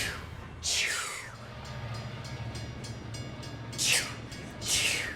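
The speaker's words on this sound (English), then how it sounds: "The train came a-chugging" A train rumbles steadily along the tracks near Chuckanut Bay, with loud, high screeching bursts from the wheels near the start and again near the end.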